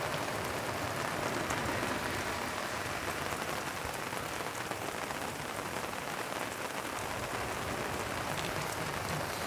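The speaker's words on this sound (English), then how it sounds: "Just watching the rain fall over the ocean." Steady rain falls over the ocean near the Bay of Fires in Tasmania, a dense even hiss with no breaks, heard alone without voices.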